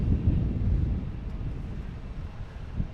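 Distant airliner engine rumble at Boston Logan Airport as ITA, Alaska Airlines and JetBlue jets line up and land, a steady low roar that eases slightly over a few seconds, with wind buffeting the microphone.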